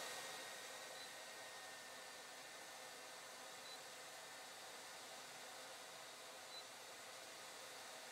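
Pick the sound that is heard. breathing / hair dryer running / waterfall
hair dryer running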